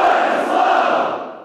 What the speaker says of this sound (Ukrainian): Під такий шквал оплесків та емоцій